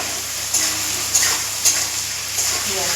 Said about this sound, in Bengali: পেঁয়াজ কুচানোটা দিয়ে দিলাম